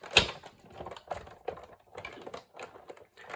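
A hand-cranked die-cutting machine squeezes a plexi plate sandwich, giving faint, irregular clicks and ratcheting knocks at close range in an otherwise quiet room, with no speech.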